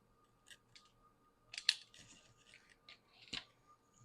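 Scissors snip through paper while trimming a handmade card, a few quiet, close, crisp cuts in short irregular bursts with small handling rustles between them.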